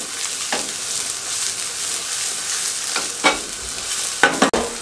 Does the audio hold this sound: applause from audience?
no